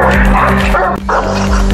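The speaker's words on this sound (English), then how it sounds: "Powerful and loudest bark. Let's hear it first and we'll decide accordingly." A large dog, a Presa Canario or Dogue de Bordeaux, gives a couple of deep, loud, close barks in quick succession with a brief pause between them.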